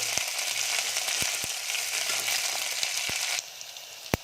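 Brinjal and tomato sauté in hot oil in a pan for a tamarind brinjal curry, giving a steady close sizzle broken by sharp clicks of a spoon against the pan, and the hiss drops off near the end.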